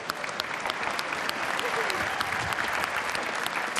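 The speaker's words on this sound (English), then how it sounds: "give them both a big round of applause" A big crowd applauds two golfers, Victor and Brooks, at a golf challenge event at Yas Marina Circuit in Abu Dhabi, with steady dense clapping for the whole stretch and faint voices mixed in.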